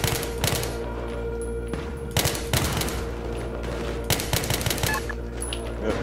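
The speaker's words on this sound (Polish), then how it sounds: "Kolesie za oknem gdzieś tutaj strzelają." Enemy gunfire from outside a window in Battlefield 3, with bursts of automatic fire and scattered single shots repeating over steady game ambience at moderate volume.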